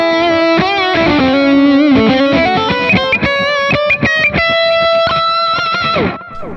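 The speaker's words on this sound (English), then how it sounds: "it's just smoking with distortion, but it's smooth" Overdriven electric guitar through an amp plugin with a smooth, warm distortion, playing a sustained melodic line with chords, loud and close, ending on a held note that fades.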